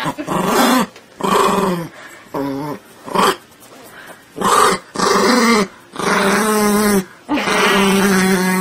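A dog growls and whimpers in a series of loud, close, drawn-out vocal bursts separated by short pauses.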